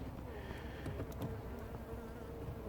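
A steady, dense buzzing of many honeybees fills the air around a hive, continuous and close, with scattered sharper wingbeats passing nearby.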